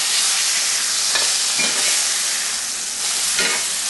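A cheeseburger patty fries in a pan, giving a steady, close, loud sizzle with broad crackling hiss, a few brief stirring or scraping bursts, and no talking.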